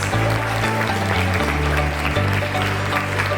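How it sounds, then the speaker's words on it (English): A school audience at an International Workers' Day celebration applauds the security staff with dense, steady clapping that fills the whole stretch, loud and close, over sustained low musical tones that shift in pitch underneath. "So a big round of applause to all the security people around us."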